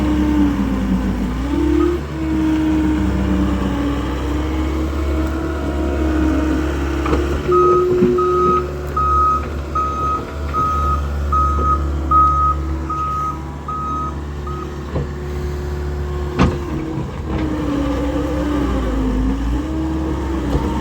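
A skid steer's diesel engine drones steadily on a work site while a reversing alarm beeps in a long regular series, loud and close, with the engine revving and settling underneath.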